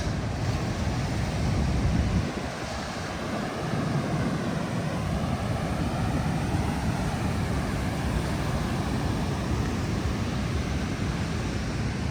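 Ocean surf and gusting wind at Balian Beach in Bali, a steady broadband roar of breaking waves with wind buffeting the microphone, loudest in the first two seconds and continuous throughout with no voices.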